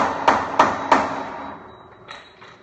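A hammer striking a bushing back into place on a Rec Tec wood pellet grill, three firm metallic blows evenly spaced and close. Two fainter taps follow after a pause, with no talking.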